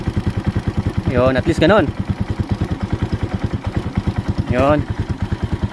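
A motorcycle engine idles steadily with an even, pulsing rhythm while its idle is being adjusted, the beat continuing throughout as someone speaks briefly over it.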